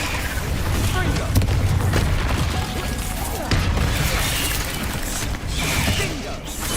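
Confringo blasting spell in Hogwarts Legacy on PS5, a dense, loud wash of rumbling booms and mechanical clatter amid continuous game combat, with a voice shouting over it.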